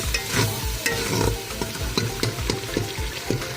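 Beef trotters sizzle loudly in a hot pan while a utensil scrapes and stirs in an irregular rhythm, close up.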